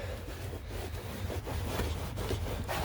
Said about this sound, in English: just take my microfiber towel, just rub,